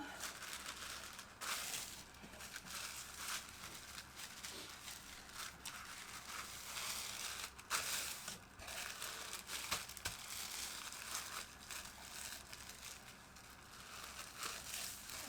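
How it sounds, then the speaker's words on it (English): Tissue paper crinkling and rustling steadily as a small resale item is wrapped up for shipping, a close, continuous papery crackle with occasional sharper crumples. "put this just in some tissue paper, wrapped up like that"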